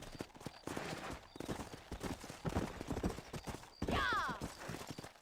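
Horse hooves clip-clop in a fast, steady galloping rhythm in the Red Dead Redemption video game, close and continuous, with a horse whinny near the end.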